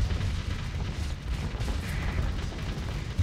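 Starship weapons fire in a Starsector space battle, with dense, continuous rumbling booms and heavy impacts rolling on without pause.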